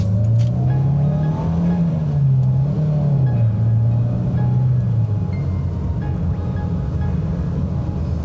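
A Toyota Corolla AE112 engine accelerates with a steady, droning rumble inside the car that rises and falls in pitch over several seconds, without talk.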